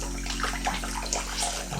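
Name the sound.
wringing out a wet magic eraser sponge in water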